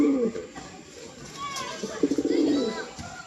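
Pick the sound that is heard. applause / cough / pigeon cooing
pigeon cooing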